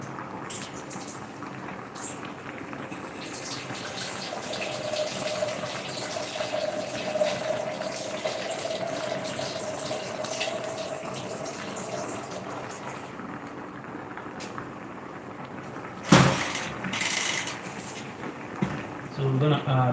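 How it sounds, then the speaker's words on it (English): Water poured into a pot of garden eggs and unpeeled plantain on a cooking fire, a steady gushing fill lasting many seconds, followed by clattering knocks, with a voice talking over it. "So I'm gonna add water to the garden eggs and the plantain on fire as well."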